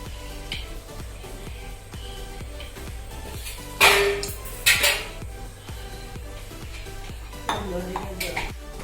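Jackfruit paste with jaggery syrup is stirred in a pan for jackfruit halwa, with a soft rhythmic scraping and repeated metallic clinks of a spoon against the pan, a few sharper knocks standing out.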